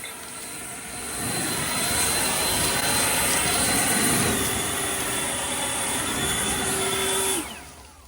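An Ego Commercial LBPX8006 leaf blower clearing autumn leaves from a lawn roars in after about a second as a loud, steady, close whoosh with a high whine, then cuts off near the end.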